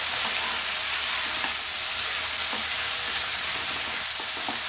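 Small mourola fish and tomatoes frying in a pan with spring onion, a dense, loud continuous sizzle with faint stirring scrapes and no pauses.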